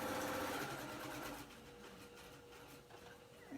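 A sewing machine runs steadily while stitching quilt binding, a fast continuous whir that eases slightly softer partway through and carries on without talk.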